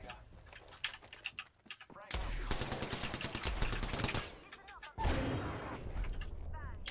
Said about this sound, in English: grenade kill out of nowhere